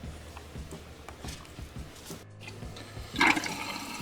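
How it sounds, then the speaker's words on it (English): Tap water runs into a glass graduated cylinder in a lab, a steady pour with a brighter splashing surge near the end, close and alone. "Next we're going to fill the graduated cylinder all the way to the top with tap water."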